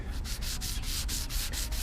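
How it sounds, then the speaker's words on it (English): Hand sanding of a car's door and window trim before painting: a steady back-and-forth scrubbing, close and fairly loud, in quick regular strokes about every quarter second. "all I'm doing is just sanding enough, as you see, to get a haze that'll be wiped off, something for the paint to stick to"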